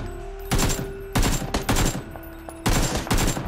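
Automatic gunfire from PUBG gameplay, several loud rapid bursts of shots of varying length with short gaps, close and dominant without speech.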